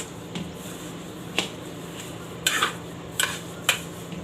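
A spoon stirs sugar through grated mango in a metal pot while making tadka chhaya murabba, with several sharp close clinks and taps at irregular intervals over a low steady hum.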